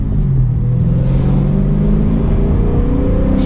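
A car engine in first gear revving steadily and loud before a paddle shift, a continuous droning hum with a slowly climbing pitch, close up and alone.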